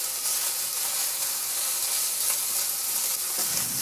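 Ground pork sautéing in a pan for Filipino menudillo, an even, bright sizzling hiss that runs the whole time, with a faint stirring scrape near the end.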